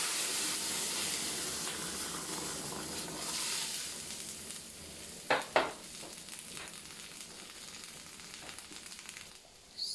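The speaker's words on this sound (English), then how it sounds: "frying briefly the fish head" A fish head fries in a pan of oil, sizzling and crackling steadily, close and continuous, with a couple of brief louder clinks partway through.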